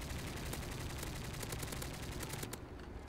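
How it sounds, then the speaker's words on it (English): Distant sentry gun in a video game firing steady rapid bursts, a dense continuous rattle that holds throughout and thins out near the end. "the damn sentry gun shooting from all the way over there"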